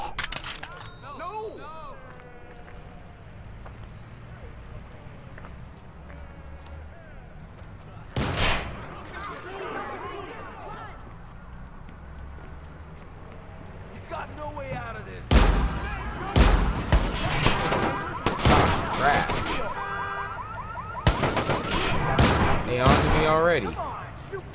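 Bursts of gunfire in the open-world game Watch Dogs crackle in clustered volleys, first an isolated shot, then dense rapid shooting later on, with people talking in between.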